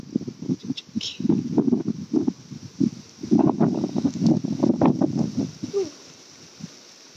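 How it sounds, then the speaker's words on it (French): Gusty wind buffets the microphone in low rumbling bursts, loud and uneven, easing off near the end. "Là, il y a du vent."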